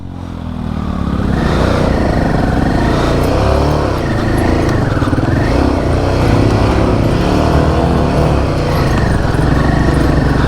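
A motorcycle labours up a steep rural road in the Konkan in first gear, its engine droning loud and close with a steady strained roar and slight clattering rise and fall.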